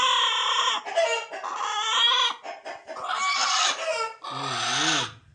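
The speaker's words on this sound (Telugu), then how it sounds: "నాటుకోడి అది" A country chicken (nattu kodi) clucks and squawks close by in a village, loud bursts of harsh calls with brief pauses between them.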